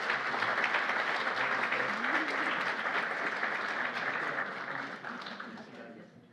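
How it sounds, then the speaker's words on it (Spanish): Warm applause from the audience at a legal seminar on the accusatory criminal justice system, sustained clapping that gradually thins and fades toward the end, with faint voices mixed in beneath. "un fuerte aplauso a los dos"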